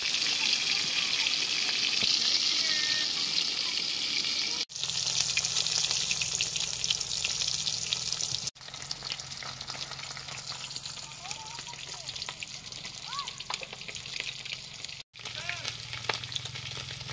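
Garlic fried rice (sinangag) frying in a pan, a steady broad sizzle with a few abrupt breaks, fairly faint and close, with occasional light clinks.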